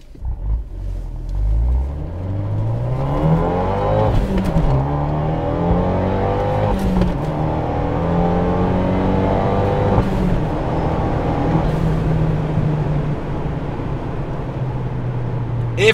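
A tuned Fiat 124 Spider accelerates hard, its turbocharged engine rising in pitch through several gear shifts, loud and close throughout without talk.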